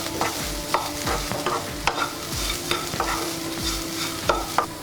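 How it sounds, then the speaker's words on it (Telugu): Beetroot and coconut fry is stirred in a pan after salt is added, with a rapid series of close scraping strokes over a light sizzle and no talk. "సాల్ట్ వేసుకొని కలుపుకుందాం మనం"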